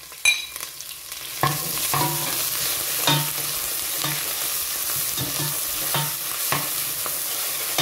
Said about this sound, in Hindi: इसमें लहसुन अदरक का पेस्ट शामिल करके इसे 1-2 मिनट भूनूंगी अच्छी तरह से।